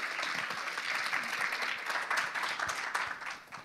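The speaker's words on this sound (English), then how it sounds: "a round of applause for you" An audience at a conference networking talk applauds the speaker, dense sustained clapping throughout that fades slightly at the end, with a few voices mixed in.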